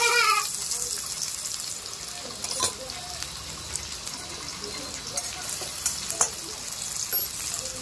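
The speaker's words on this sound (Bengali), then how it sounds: "পেঁয়াজটা হালকা ভাজা হয়ে গেছে।" Chopped onion frying in oil in a pan, a steady moderate sizzle with faint stirring scrapes and small crackles throughout, no talking.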